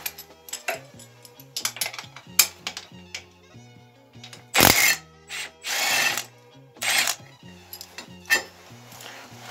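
Metallic ratcheting clicks and clinks of tools as engine mount bolts come off an Italika ATV150 quad, sounding in irregular close bursts with a few louder clanks between pauses.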